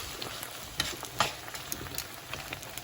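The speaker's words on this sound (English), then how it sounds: "those eggs are cooking up nicely" Eggs and steak fry together in a hot pan, giving a steady, quiet sizzle with soft crackles and a few sharper pops throughout, close by and with no talking.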